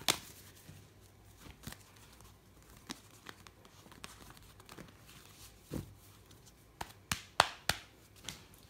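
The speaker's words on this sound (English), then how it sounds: "Just got to shuffle the cards up" Tarot cards being shuffled and riffled close by, soft papery patter building into a quick burst of sharp flicks near the end.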